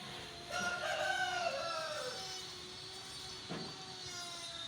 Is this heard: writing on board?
no